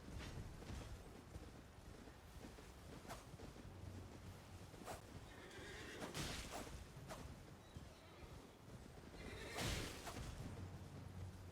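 Horse neighing in Elden Ring, a couple of shrill whinnies rising over a quiet bed of wind and ambient game noise, with faint hoof clatter nearby and no talking.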